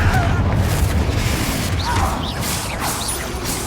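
Confringo fire spell exploding in the video game Hogwarts Legacy, a loud booming blast with crashing debris and whooshes filling the scene, several impacts in quick succession.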